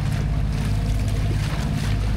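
Steady roar of strengthening ocean waves and wind around a boat near Capones Island, a dense continuous wash with low rumble and no voices.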